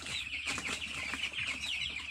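Two-week-old broiler chicks peeping in a brooder, a dense chorus of faint, high, overlapping chirps with soft clucking sounds underneath.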